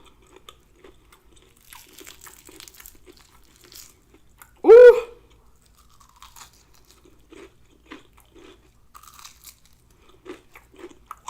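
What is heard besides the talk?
crunching and chewing homemade battered fried chicken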